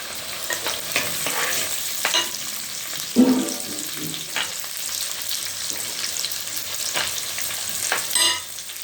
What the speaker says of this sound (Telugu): ఉల్లిగడ్డ వేస్తాను.